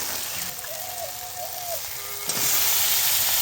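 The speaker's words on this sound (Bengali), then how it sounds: "চিকেনটাকে দিয়ে মশলার সঙ্গে ভালো করে নেড়ে নিচ্ছি।" Washed chicken pieces sizzling steadily as they are stirred into a fried spice paste for a potato chicken curry, a constant hiss that swells louder near the end, with a brief clink of the spoon and no talking.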